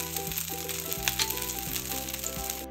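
Potato patties shallow-frying in a little ghee on a pan, a continuous close sizzle with faint crackles, heard over soft background music.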